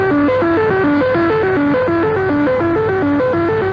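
Wartime Axis radio jamming, as picked up on an ordinary radio set in England in 1942: a loud, continuous warbling of tones stepping up and down in a fast repeating pattern over a buzzing, noisy background.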